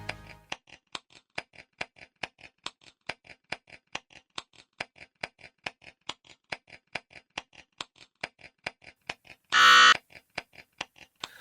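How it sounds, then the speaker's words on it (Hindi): A quiz-show buzzer sounds once as a single loud, sustained burst in a Bible quiz competition, standing out against a steady, rapid series of tick-like clock pulses that run throughout. "पहला बजर दबाया है"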